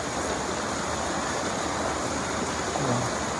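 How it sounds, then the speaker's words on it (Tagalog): A refreshing mountain river flows steadily where people are bathing, a continuous broad rush of water close by with faint splashes and no talk over it. "Ligo po kami sa napaka-refreshing na ilog."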